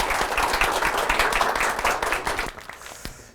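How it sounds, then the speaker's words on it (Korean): Audience applause at a Korean broadcast event, steady dense clapping filling most of the stretch before thinning and fading out near the end. "박수 한번 주세요."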